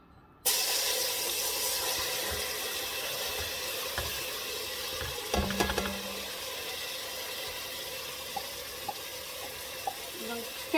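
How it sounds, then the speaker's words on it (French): Onion, garlic and tomatoes fry in a pan for a white bean dish, giving a steady, close hiss of sizzling with a few faint clicks and knocks throughout. "Donc faites revenir l'oignon, l'ail et les tomates."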